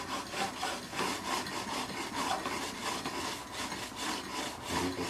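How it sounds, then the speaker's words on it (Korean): A stone sharpening the steel edge of a snowboard gives a continuous gritty scraping, rubbing back and forth in steady strokes, loud and close with no talking. "스톤이라서 그런 건 다시 이렇게 정리를 해주면 엣지가 좀 더 서요"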